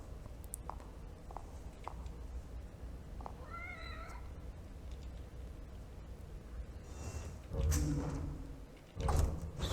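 A cat in The Evil Within video game gives a short wavering meow among sparse clicks and low ambient game noise, followed by louder thuds.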